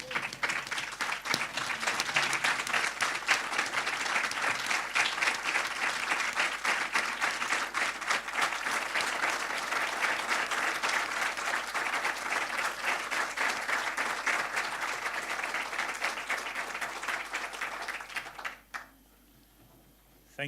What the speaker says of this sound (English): we must stand up and warmly applaud the VC. So please join me.